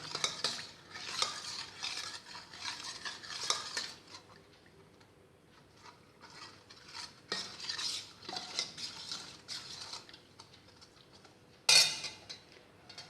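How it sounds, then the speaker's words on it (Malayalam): A spoon stirs condensed milk into a tender coconut pudding mixture in a vessel, with repeated close scraping and clinking strokes in bursts, a pause midway, and a sharp metallic clink near the end; no speech. "ഇപ്പോൾ മിൽക്ക് മെയ്ഡും ചേർത്തു. ഇത് നല്ലപോലെ ഇളക്കി കൊടുക്കാം."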